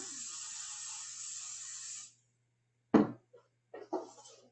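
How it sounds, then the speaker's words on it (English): A short hissing burst of cooking spray onto a loaf pan lasts about two seconds, followed by silence and a few light clunks and taps. "I'm going to spray my loaf pan."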